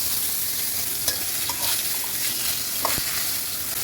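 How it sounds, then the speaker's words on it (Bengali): Meat frying in soybean oil in a wok, a steady close sizzle with occasional stirring scrapes and small clicks running throughout. "আমি এখন মাংসটা ভাজার জন্য কড়াইতে নিয়ে নিচ্ছি একটু সয়াবিন তেল। মাংসগুলো আমি এপিট করে ভেজে নেব।"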